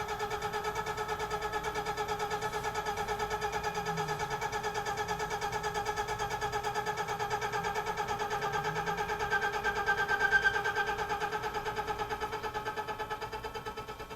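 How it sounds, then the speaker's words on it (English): A Tormach PCNC 1100 CNC mill cuts with a 2-inch diameter slitting saw at 500 RPM and 5 inches per minute, giving a steady, close, evenly pulsing whine with layered tones that barely changes throughout and no talking. "5 inches per minute, 500 RPM, a 2-inch diameter slitting saw"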